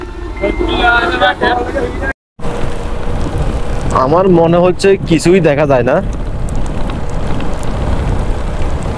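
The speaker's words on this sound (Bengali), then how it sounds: "এত বৃষ্টি হয়েছে।" Heavy rain pours down in a steady, loud roar while a person talks over it, with the rush continuing unbroken after a short dropout.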